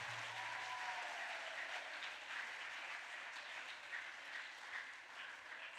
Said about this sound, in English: Clap for them, all the participants